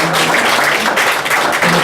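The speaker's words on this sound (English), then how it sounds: "So you have to clap her." Applause at the 6th Calypso Awards Ceremony as the award winner is honoured, a brief steady wash of clapping from the audience with a voice faintly underneath.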